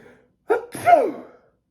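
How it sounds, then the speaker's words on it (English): A single sharp sneeze, close and loud, preceded by a quick intake of breath, then quiet. "I huffed, and I snuffed, and I sneezed once again."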